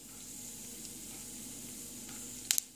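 Fenugreek seeds sautéing in hot oil for a flat bean and drumstick tamarind sauce, a quiet, steady sizzle close by with a couple of brief sharp clinks near the end.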